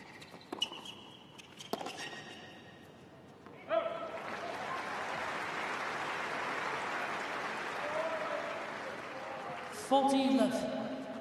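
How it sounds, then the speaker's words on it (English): Crowd applause at a men's singles tennis quarter-final swells and holds steady for several seconds, broken by a few sharp thuds and a brief murmur, then a louder burst near the end. "And applause from Marius Copil."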